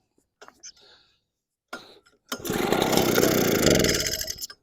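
An Echo PB413H backpack blower that won't start gets a start attempt: brief soft breaths and rustles, then a loud rough engine burst that sputters for about two seconds before dying away.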